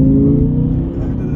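A VW Phaeton 5.0 TDI V10 diesel with 313 hp and 4Motion pulls away hard from a standstill, its deep engine drone rising steadily and close-miked for just over a second with no voices.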